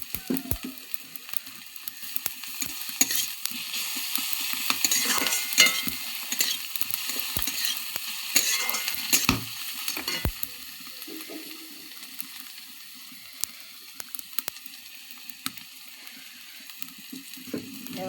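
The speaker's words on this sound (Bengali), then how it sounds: "দেখো, পেঁয়াজটা কড়ার মধ্যে দিয়ে লাল লাল করে ভেজে নিচ্ছি।" Onion frying in a wok (kadai) with garlic then added, a steady close sizzle broken by frequent stirring scrapes and clatter, no voices.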